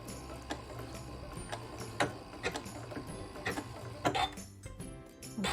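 A sewing machine stitching fusible appliqué onto a quilt, running in a steady rapid mechanical ticking with brief pauses and a few louder clicks, close and moderately loud.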